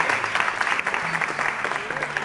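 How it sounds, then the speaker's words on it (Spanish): A crowd breaks into lively clapping, a brisk, uneven patter of many hands with a faint musical tone underneath, lasting a couple of seconds. "¡Un aplauso ahí!"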